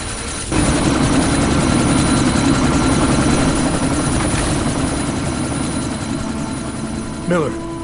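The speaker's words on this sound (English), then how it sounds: "That chopper's about to take off!" Helicopter taking off in the video game Deus Ex: Mankind Divided: a loud, steady rotor and engine roar starts abruptly and holds throughout, with a voice breaking in near the end.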